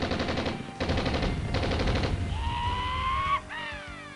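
Gunfire in the 1995 DOS/Windows game Police Quest: SWAT, loud rapid bursts of automatic shots in three tight volleys, followed by ringing electronic tones and a final sharp crack.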